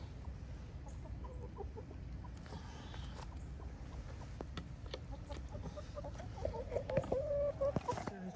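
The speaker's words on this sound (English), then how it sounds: "There's a chicken in there." Backyard chickens clucking softly inside a coop, with a hen sitting on eggs; low, intermittent clucks under quiet ambient noise, growing a bit louder near the end.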